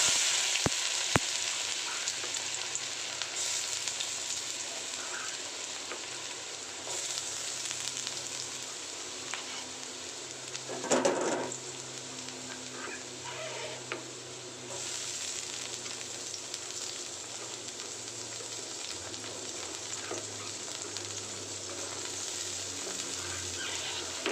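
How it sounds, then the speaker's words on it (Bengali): Small eggplants and other vegetables frying in hot oil in a wok make a steady, close hiss and crackle throughout, with a brief louder sputter midway as more pieces drop in; no one speaks. "সবজি ভাজার জন্য আমি কড়াইয়ে আগে তেল দিয়ে রেখেছিলাম। এখন আমি সবজিগুলো এক এক করে দিয়ে দিচ্ছি।"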